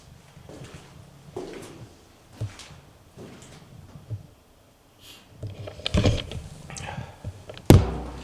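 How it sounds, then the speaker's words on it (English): A heavy thud of someone banging into a door inside an old jail house, preceded by scattered softer knocks and shuffling, with the final impact sharp and loud; low voices murmur in between. "Accidentally banged you on the door."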